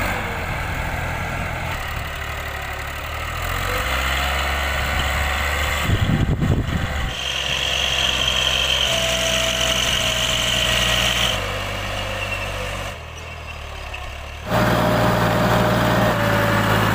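A tractor's diesel engine idles steadily at a farm field, a continuous low rumble with slight shifts in tone and a brief rougher patch midway, no talking.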